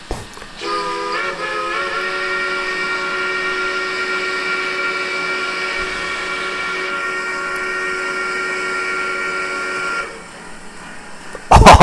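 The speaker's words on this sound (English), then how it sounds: "Awesome sounding whistle." Steam whistle of the Machine Rail 1907 EFCB 0-6-6-0 locomotive in Train Simulator Classic, one long loud chime held for about nine seconds over a faint hiss, then cut off abruptly.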